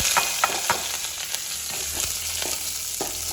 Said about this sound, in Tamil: 2வது இப்போ தான் தாளிக்கிறேன்